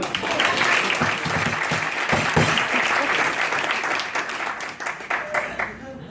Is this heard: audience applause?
yes